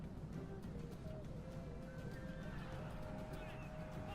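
A horse whinnies amid a Rome: Total War battle, a loud neigh over a dense din of fighting and hooves, with someone talking over the game sounds.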